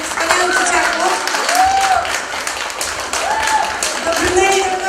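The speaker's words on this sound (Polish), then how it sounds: "brawa dla tych wspaniałych dzieciaków." An audience at a village carol and pastoral song contest in Rakowiec applauds young child performers, steady clapping under a voice that speaks alongside it, with a few sliding tonal notes mixed in.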